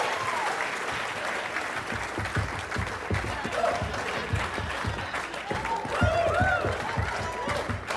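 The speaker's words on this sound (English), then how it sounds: "Can we get a little bit of clapping? A little bit of clapping going?" A live comedy podcast audience keeps up steady clapping for about eight seconds, a dense, continuous patter that fills the room, with some voices and scattered crowd sounds mixed in.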